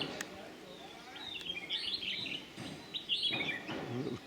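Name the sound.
many birds chirping in a flowering Indian coral tree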